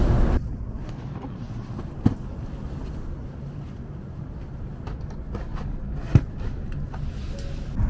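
Steady low rumble inside a moving Japanese shinkansen bullet train, a continuous muffled cabin drone with a couple of brief sharp clicks, no one speaking.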